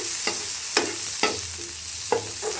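Capsicum and mushrooms fry in a pan under a steady sizzle, with a few sharp scrapes as a spatula stirs them at irregular intervals.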